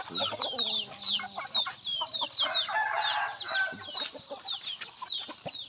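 Chickens cluck and chatter nearby in a busy chorus, with a rooster crowing among them and a voice briefly under the noise.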